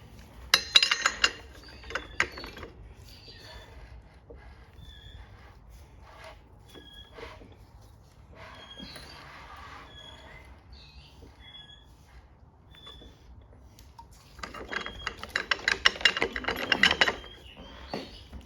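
A ratchet turns over a Holden FJ Grey motor during a camshaft install, with bursts of rapid clicking at the start and end, sparser mechanical clicks and clunks between, close by and with no talk.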